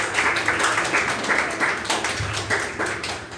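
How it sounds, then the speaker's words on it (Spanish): A church congregation at a Sunday service claps together in quick, rhythmic bursts that hold a steady level throughout, with no speech over it. "Ese es el aplauso que le das al Padre espiritual."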